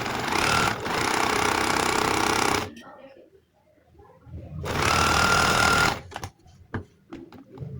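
Sewing machine stitching boot piping along a marked line on fabric, two loud continuous bursts of motor whir a few seconds each, separated by quieter handling noises and brief clicks.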